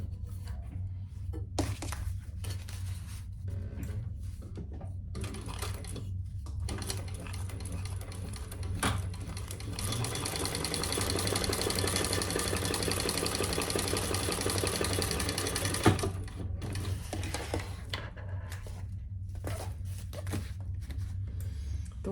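A sewing machine, with a nearly full bobbin, stitches an accent piece onto a large crossbody sling bag: bursts of whirring stitching, then a longer steady run in the middle, close and mechanical, with brief pauses and handling clicks.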